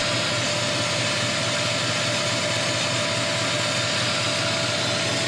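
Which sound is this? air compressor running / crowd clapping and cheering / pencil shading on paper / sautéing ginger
air compressor running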